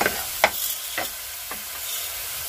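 Diced potatoes stir-fry in oil in a kadai, a soft steady sizzle broken by three distinct scraping stirs about half a second apart, close and fairly quiet with no talking.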